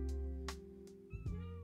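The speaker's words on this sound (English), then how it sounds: "I hear a little kitty cat." A cat meows several times in short, nearby bursts over a steady low hum, outdoors on a local trail.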